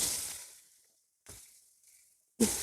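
Turmeric powder dropped into hot oil in a pan on a clay stove in a village kitchen, frying okra. Three short sizzling bursts, each flaring up and fading away, with quiet gaps between them.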